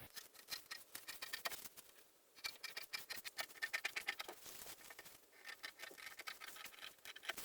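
Scissors snip through paper while a basic long sleeve pattern is cut out, a quick run of soft, close crisp cuts in an uneven rhythm with a brief pause, no voices.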